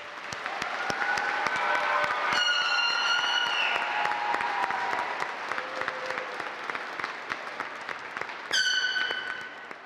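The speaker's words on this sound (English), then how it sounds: "Let's have a final applause for our new master graduates." Sustained applause from a commencement audience for new master's graduates, a dense steady wash of clapping lasting throughout, with tonal chimes or whistles rising briefly over it in the middle and near the end.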